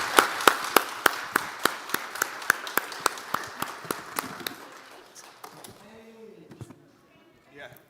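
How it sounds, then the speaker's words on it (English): At a spring town hall, a few people give the panelists a round of applause as evenly spaced, crisp claps that fade out after about five seconds, followed by quiet talk. "Let's give our panelists a big round of applause."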